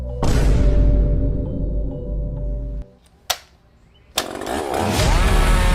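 Chainsaw engine roaring loudly for nearly three seconds, then cutting out to near-silence broken by a sharp knock, before a harsh, noisy mechanical rasp returns; a parody chainsaw effect.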